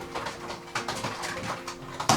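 Racing pigeons of the Janssen line coo softly in short, low bursts close by, with a faint clatter near the end.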